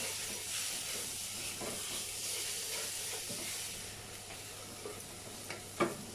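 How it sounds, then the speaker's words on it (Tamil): Steady sizzling and hissing from a hot pan as masala is stirred for mutton paya, with occasional scraping clicks near the end; no talking. "இப்போ இதை நல்லா மிக்ஸ் பண்ணி விட்டுக்குவோம்."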